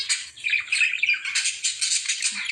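Pet birds squabble nearby, giving sharp, rapid squawks and harsh chatter in quick overlapping bursts, loud and close, with no talk.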